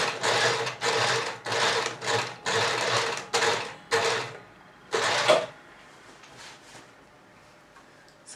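A sewing machine stitches a fabric hem for a box pleat skirt in a series of short, rhythmic bursts separated by brief pauses. It is moderately close and falls quiet near the end, with no talk.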